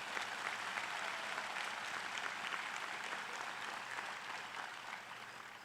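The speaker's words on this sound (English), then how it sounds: "Let's give these leaders a round of applause." Audience at the USC Upstate Greenville campus applauds university leaders with a sustained, even wash of many hands clapping, fairly soft and distant, tapering slightly toward the end.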